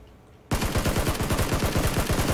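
A SCAR-L rifle in the PUBG video game opens up in full-auto after a moment of quiet, firing a loud, rapid, evenly spaced stream of shots that continues for about two seconds.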